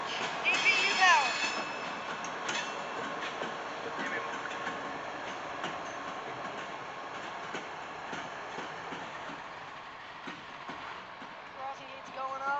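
A CSX coal train hauled with ES44AH distributed-power locomotives rolls through Grafton, West Virginia, giving a steady rumble and wheel noise with squealing flanges, while talk is heard over it.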